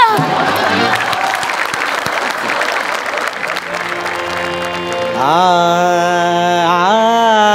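Audience applause at a live comedy-show music concert, loud and continuous for several seconds, then giving way to a sustained musical tone with harmonics toward the end.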